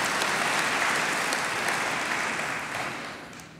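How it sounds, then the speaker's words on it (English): Steady audience applause at a Pilot International convention keynote, a dense wash of many hands clapping that fills the room and tapers slightly toward the end. "Please don't waste your applause on me"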